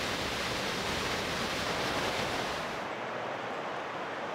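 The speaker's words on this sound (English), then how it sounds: "These falls are impressive, approximately 50 meters high, and named after a nearby mining town called Silverton." Silverton Falls, a waterfall about 50 meters high near Banff, Canada, roars as a steady, dense wash of falling water that holds constant throughout and easing slightly toward the end.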